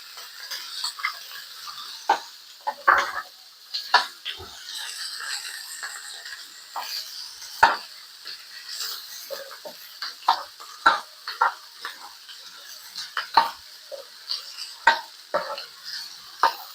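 Onions are added to a sizzling pan for Filipino kaldereta and stirred. A steady frying hiss runs throughout, with frequent scraping and tapping of a utensil against the pan, close and continuous, with no voices.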